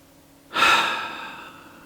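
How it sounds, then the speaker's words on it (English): One deep breath sounds close to the microphone, starting abruptly after a short quiet moment and then slowly fading out as air is released. "a couple of nice deep breaths"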